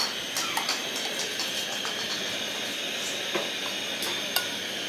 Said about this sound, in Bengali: এবার কড়াইয়ের মধ্যে আমি 2 চামচ সাদা তেল দিয়ে দিচ্ছি